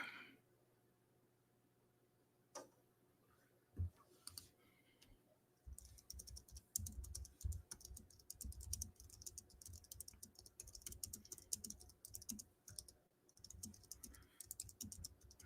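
Typing on a computer keyboard: after a few isolated clicks, a steady run of quick, faint key taps continues in a quiet room with no talking.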